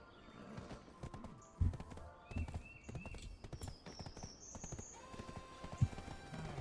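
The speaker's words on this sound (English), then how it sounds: "Oh, there's my horse." Horse hooves clip-clop through the video game Black Desert, an uneven run of hoof knocks over soft ambient game music, with a few sharper thumps standing out and brief tonal chimes drifting above.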